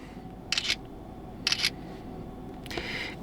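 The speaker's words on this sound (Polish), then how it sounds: "lepiej jest przejść tutaj do opcji aparatu, zrobić zdjęcie" Huawei Nova 14 Pro smartphone camera producing three short, crisp shutter clicks spaced about a second apart, moderately loud over faint room noise with no talking.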